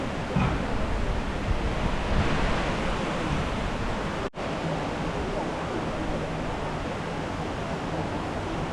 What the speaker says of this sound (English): that's pretty impressive, that waterfall over there